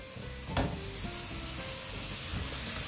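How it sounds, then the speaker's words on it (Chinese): Vegetables, seasoned with soy sauce, vegan oyster sauce and pepper, are stir-fried in a wok with a steady close sizzle and a few sharp scrapes of the spatula, with no talking. "把调味料炒均匀"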